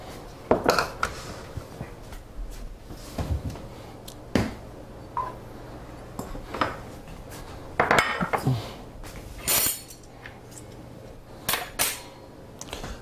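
Dishes and pans clatter and clink as they are shifted around a counter, a string of separate knocks and scrapes spread across the clip.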